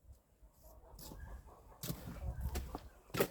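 Roosters and chickens in a yard, scattered soft clucks and rustling, faint and irregular, with a few louder bursts toward the end.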